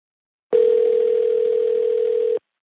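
A telephone tone sounds during a phone call: one steady, loud, unbroken electronic tone lasting about two seconds, then stops, with nothing else heard.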